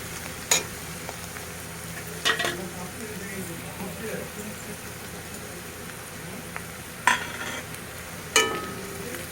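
Black cumin and garlic sizzle steadily in oil in a pan, a soft continuous frying hiss with a few sharper crackles and clinks, no talking.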